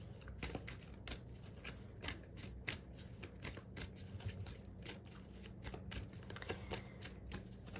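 Angel cards being shuffled by hand close up, a steady run of crisp riffling slaps and flicks repeating throughout at a moderate volume, with no voices.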